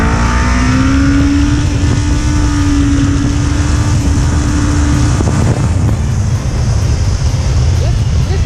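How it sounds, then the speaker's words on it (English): A Kawasaki Ninja 400 motorcycle accelerates through its gears, a loud, continuous engine drone with a steady tone and constant road and wind roar throughout. "Third gear, second gear, and accelerator."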